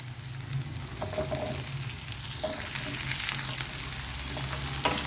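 Potatoes fry in a pan for an okra and potato fry, giving a steady moderate sizzle with a low hum underneath and occasional spoon scrapes and brief clinks, no one speaking.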